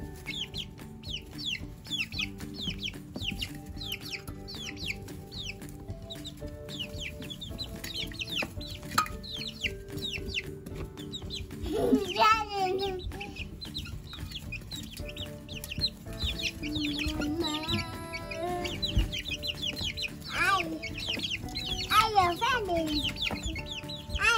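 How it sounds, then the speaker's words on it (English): Chickens cluck and squawk continuously nearby as they fight over worms, with occasional louder agitated calls, and a person speaks at times over the flock. "What do the chickens do? They're fighting."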